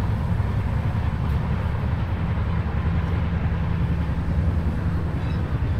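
A train running from Kolkata to Cooch Behar makes a steady, loud, low rumble with continuous rattling wheel noise and no break, heard from inside or close by.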